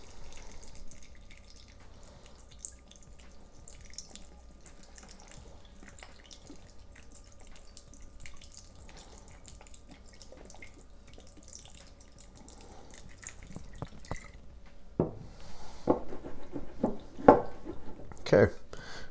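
Red wine vinegar and white balsamic poured into an olive salad: soft, faint liquid trickling and dripping at low level, followed near the end by a few louder clinks and splashes.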